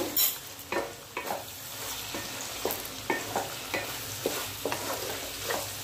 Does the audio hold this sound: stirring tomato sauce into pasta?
yes